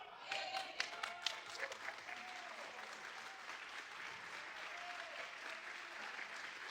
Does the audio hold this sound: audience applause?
yes